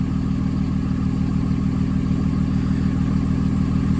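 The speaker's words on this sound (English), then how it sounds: "the exhaust brake puts enough load on the engine that it has to fuel up to keep the idle speed where it is" A Dodge Ram with the Cummins 5.9 diesel engine idles steadily with the exhaust brake engaged. The low, loaded rumble clatters evenly and continuously at close range, with no speech.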